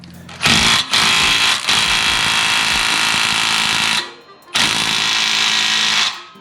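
An impact gun driving a ball joint press to push out a rear knuckle bushing on a Lexus IS300, loud and close in long sustained rattling bursts with short pauses between them.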